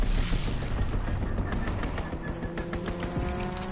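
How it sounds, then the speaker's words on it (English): Rapid machine-gun fire from an enemy strafing run in Call of Duty, sustained bursts of overlapping shots with some booming impacts, loud and continuous throughout without any talk. "Enemy strafing run inbound."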